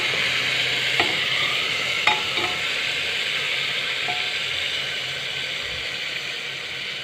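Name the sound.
marinated meat frying in mustard oil in a cooker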